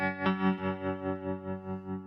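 Guitar chord struck and left ringing through a Stone Deaf Tremotron analog tremolo pedal, its volume pulsing in a smooth, even wave about four times a second as the note decays, close and alone.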